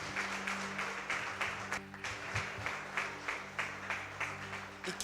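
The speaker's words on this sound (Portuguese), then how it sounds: "Você pode aplaudir ao Senhor por isso?" A church congregation applauds during an evening worship service, a steady spread of clapping from many hands that rises and falls in gentle waves over a low hum in the room.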